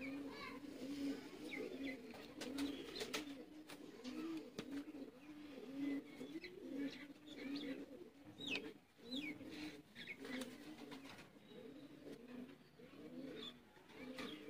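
Chuha Bateray pigeons at a loft coo in repeated low, throaty phrases that roll on steadily throughout, moderately close, over a soft background murmur and a few faint chirps.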